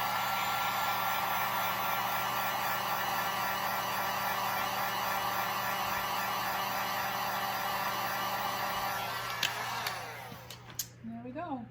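Heat tool blowing a steady, loud stream of air to reheat epoxy resin on a tumbler, a constant whooshing hum that runs for about ten seconds before cutting off, followed by a few faint handling clicks.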